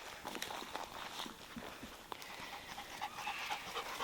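Dogs on a hike in Australia, a German Shepherd among them, pant steadily close by while footsteps crunch on the trail, with a few brief whimpers and faint sounds in the background.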